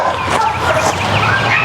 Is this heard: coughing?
no